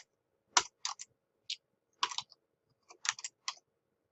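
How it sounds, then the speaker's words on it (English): Typing on a computer keyboard: short bursts of crisp key clicks in small clusters separated by pauses, close and clear over near silence. "watch as I type"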